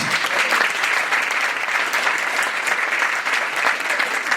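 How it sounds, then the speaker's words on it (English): Steady, full applause from a large audience, continuous clapping with no pauses throughout. "a nice round of applause for all our recipients"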